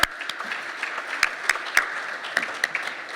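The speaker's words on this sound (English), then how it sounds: "Give her a round of applause." Audience applause at a press club Hall of Fame and awards dinner, a steady wash of clapping with a few sharper individual claps standing out, fairly distant and moderate in level, with no talking.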